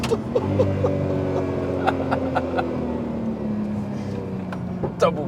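Nissan R34 GTR V-Spec street car engine drones steadily with a falling pitch as it is double clutched, with sharp clicks and brief blips between shifts, recorded close from inside the car.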